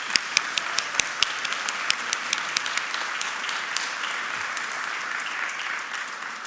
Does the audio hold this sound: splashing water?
no